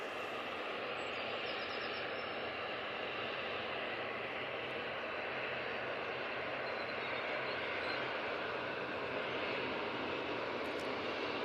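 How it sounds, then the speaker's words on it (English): An EasyJet airliner arriving from Belfast lands at Manchester Airport, a steady, moderately faint jet engine whine and rush that stays even across the whole stretch with no talking. "Tipping that right wing down a little bit just to get back on the centre line there on the EasyJet"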